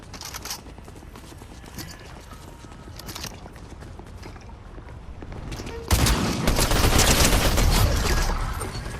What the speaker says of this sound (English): Would you stop shooting me?